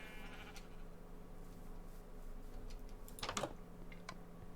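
A single brief sheep bleat from a Minecraft-style video game sounds partway through, fairly close and alone over a quiet, steady game background.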